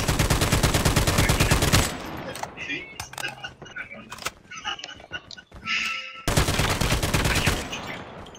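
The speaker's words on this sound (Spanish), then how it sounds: "Escucho el tiroteo, pero no veo nada." Rapid automatic gunfire from the mobile shooter Call of Duty Mobile bursts loud and dense at the start, gives way to scattered shots and thuds, then returns in a second sustained volley.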